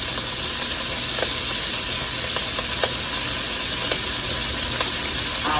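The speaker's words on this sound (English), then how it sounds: "because it's frying at the bottom." Cabbage frying at the bottom of a pot after long cooking, giving a steady close broadband sizzle with faint scattered pops and crackles throughout, no voices.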